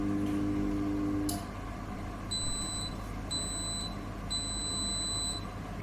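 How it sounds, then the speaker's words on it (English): An IKEA ANRATTA combi convection and microwave oven sounds three clear, evenly spaced electronic beeps at the end of a program, each lasting about half a second, over a low steady hum. "let's see how it beeps when it actually ends the program"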